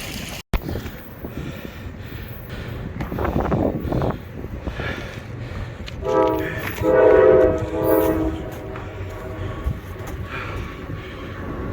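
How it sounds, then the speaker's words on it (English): A train rumbles by with several blasts of its horn, loud and sustained, over continuous rail noise and the rushing water of the Kiski River in the background. "Ooh, we caught a train."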